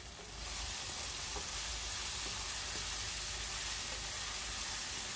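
Eggplant, tomato and drumstick curry is stirred in a pan, giving a close, steady sizzle and hiss with a few faint scraping knocks of the spoon along the way.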